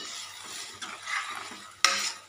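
Scraping and stirring chole masala curry in a pan, a soft continuous rustle with a sharp clink of a utensil against metal near the end.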